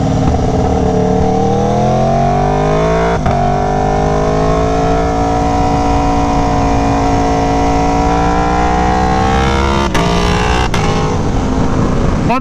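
Aprilia Tuono V4 1100 Factory motorcycle ridden hard on a race track, its V4 engine roaring loud and close as it climbs steadily through revs, with brief dips at gear shifts.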